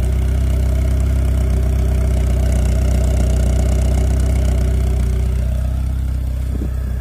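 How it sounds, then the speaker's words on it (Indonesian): A used car's engine runs steadily above 2000 RPM, a continuous deep hum with a droning rumble that holds without dropping off. "bisa gas di RPM 2000 ke atas. Itu nanti kalian bisa ngerti mesinnya masih halus atau enggak"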